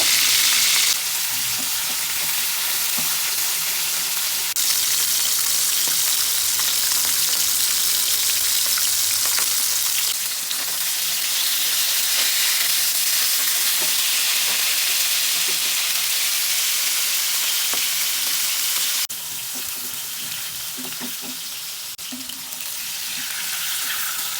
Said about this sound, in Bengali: মাছ যেহেতু পটল দিয়ে ঝোল করব এই কারণেই হালকা করে মাছটা ভেজে নেব